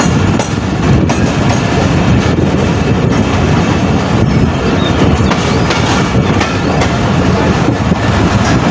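Titumir Express intercity train pulling into Doma railway station, a loud continuous rumble of wheels and carriages with steady rhythmic clatter, close and filling the whole stretch without speech.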